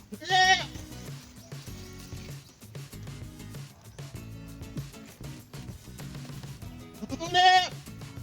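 Goats bleat loudly at the start and again near the end, with softer animal noises and faint rustling in between.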